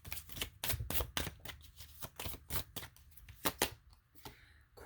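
A tarot deck being shuffled and cards drawn during a personal reading, a run of quick crisp riffling snaps and slaps, close and fairly loud, then slowing to a few separate card flicks, with no voices.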